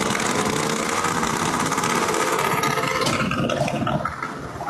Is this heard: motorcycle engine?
yes